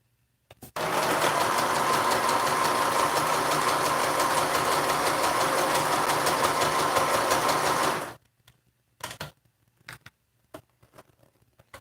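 A sewing machine stitches a fabric mask, running in one unbroken rapid whir for about seven seconds before stopping, followed by a few scattered light clicks and handling sounds.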